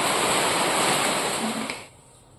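Heavy rain falls in a thick, steady hiss during rainy-season evening weather, then drops away abruptly near the end to a faint background.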